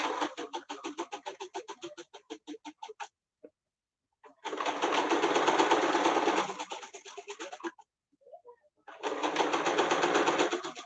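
Sewing machine stitching a fabric face mask, starting with a rapid run of separate clicking stitches, then two long whirring bursts of continuous sewing with pauses between them, close and fairly quiet.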